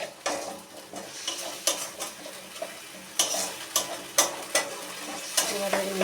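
Pointed gourd curry (potol rosha) sautéed in a pan over a high flame, with a steady sizzle of frying under repeated scraping clinks of a spoon stirring against the pan.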